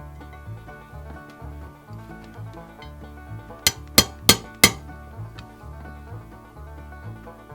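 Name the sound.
revolver hammer pin being fitted, metal clinks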